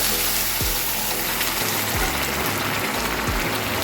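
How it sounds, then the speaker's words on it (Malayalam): Water pouring into rice in a cooking pot, one and a half glasses' worth, a steady close rushing gush with low gurgling that runs the whole time, no talk over it. "കുക്ക ഗ്ലാസ്സിന് ഒന്നര ഗ്ലാസ് വെള്ളമാണ് ഇതിൽ ഒഴിച്ചു കൊടുക്കുന്നത്"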